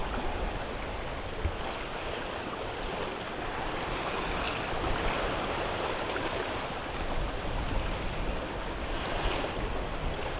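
Waves wash steadily against a sailboat's hull under constant wind buffeting off the south Labrador coast, a dense broadband rush with no talk.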